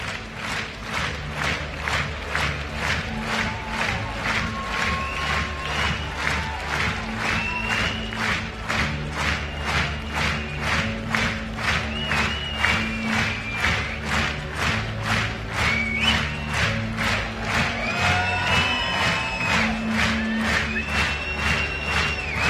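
Crowd applause in an arena at a world dressage breeding championship for young horses during the lap of honor, steady rhythmic clapping over continuous music, with faint hoof thuds mixed in.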